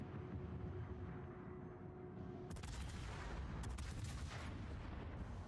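Battleship gunfire in the naval combat game World of Warships, heavy booming salvos with cracking reports layered over a constant low rumble of engine and sea noise, the shots landing in a couple of sharp bursts.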